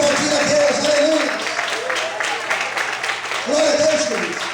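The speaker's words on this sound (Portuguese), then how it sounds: "Quantos podem aplaudir a Deus?" A church congregation applauds during a Sunday morning service, a broad, steady wash of clapping that swells, dips and swells again while a voice carries on over it.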